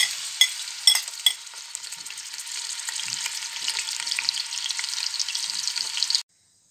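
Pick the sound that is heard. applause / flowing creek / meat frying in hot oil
meat frying in hot oil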